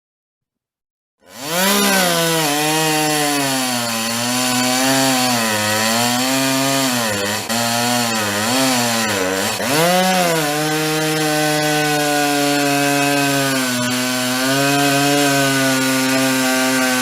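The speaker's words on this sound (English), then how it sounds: "chainsaw in the background?" A chainsaw starts abruptly and runs loud and continuous, its pitch rising and falling as the throttle changes, close and dominant with no voices.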